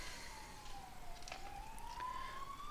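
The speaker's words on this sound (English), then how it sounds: "I really hope you can't hear those sirens" A wailing siren sweeps slowly up and down in pitch, fairly faint and distant, holding steady over a low background hum.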